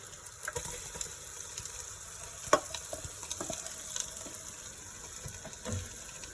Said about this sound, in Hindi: जो हमने गोश्त को बॉयल किया था हम वो डालेंगे इसके अंदर।